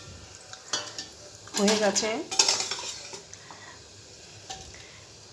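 A spoon scrapes and stirs a pot of pumpkin, potato and chickpea curry on a home stove, with light clinks of the pan as it comes off the heat. Someone speaks briefly in the middle.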